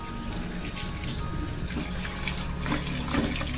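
Dried vegetable leaves for a salted fish head soup are rinsed under a running stream of water, a steady, close gushing splash that continues without a break.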